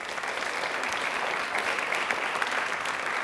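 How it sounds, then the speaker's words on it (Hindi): Audience applause in a studio quiz show, steady, dense clapping that stays fairly even and moderately soft throughout, with no voices over it. "एक बार तालियां प्लीज जोरदार हो जाएं"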